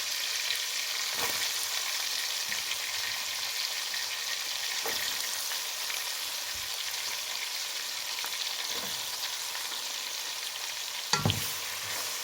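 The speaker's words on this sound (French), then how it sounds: "je vais le laisser frire un bon moment, 1 à 2 minutes" Dried fermented sea snail, onion and peppers fry in hot oil over medium heat, a constant dense sizzle with occasional stirring knocks and a brief clatter near the end.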